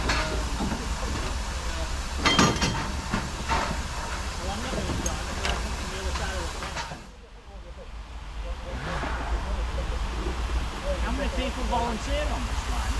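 A North Eastern Railway Class H 0-4-0 tank steam locomotive, built in 1891 at Gateshead, gives off a steady broad hiss of escaping steam that dips briefly midway, while people talk over it nearby.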